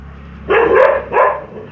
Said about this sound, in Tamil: இந்த நாய் வேற பயமுறுத்துதுங்க கைஸ்